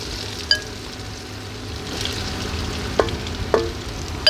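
Steady sizzling of chopped onions frying in oil, with a few sharp clinks of a utensil against the pan.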